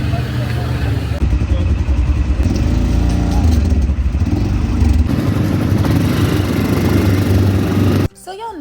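A nearby ATV engine runs with a loud, steady low rumble that holds for about eight seconds before cutting off abruptly.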